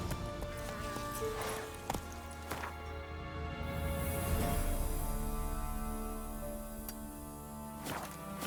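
Horse hooves clopping as Geralt rides off in The Witcher 3 video game, a fairly faint irregular clip-clop over a steady musical and ambient background.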